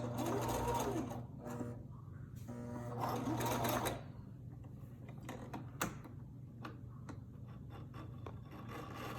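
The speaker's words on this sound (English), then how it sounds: "And then backstitch the end." A sewing machine backstitches the end of a fabric face mask with a close, steady mechanical whir in two short bursts. Scattered clicks and handling sounds follow.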